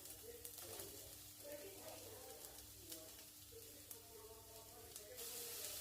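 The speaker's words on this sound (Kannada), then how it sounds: "ಸ್ವಲ್ಪ ಹೊತ್ತು ಫ್ರೈ ಮಾಡಬೇಕು" Rava and onions frying in a pan, a faint steady sizzle with scattered crackles and stirring, talk heard over it.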